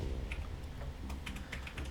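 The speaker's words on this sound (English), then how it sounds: "So that's the typing that you hear in the background." Steady computer keyboard typing runs in the background through the whole stretch, a continuous patter of soft clicks at moderate level with no talk over it.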